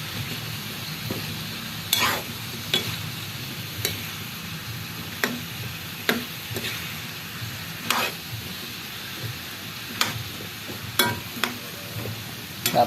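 Sautéed vegetables with tomato being stirred in a pan, a soft sizzle underneath sharp, regular spatula clicks against the metal every second or so, close up and with no talking.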